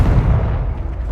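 Confringo blasting spell in the Hogwarts Legacy video game, heard as a heavy, booming explosion with deep rumbling low end sustained throughout, loud and close with no voices.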